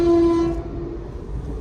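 A goods train passes a railway crossing, opening with a loud steady horn blast for about half a second, then continuing as a close rumbling roll of wagons.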